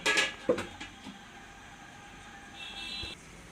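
A metal lid clanks onto a pot of Pangas fish curry from the Ghaghat river, with a couple of close metallic knocks and rattles followed by a quiet simmering hiss.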